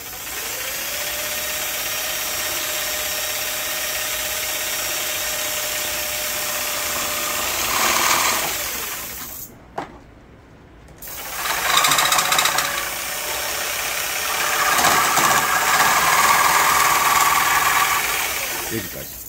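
Power tool cutting through a frame in a workshop, a steady loud buzzing drone that dips briefly, then rises and grinds unevenly as the cut goes on.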